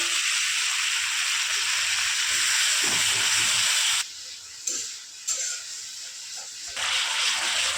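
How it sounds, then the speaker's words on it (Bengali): Water poured into spice masala frying for chicken curry gives a loud, steady hissing sizzle that drops abruptly in the middle, then swells back up near the end. "এখন দিয়ে দিচ্ছি একটু জল হালকা করে"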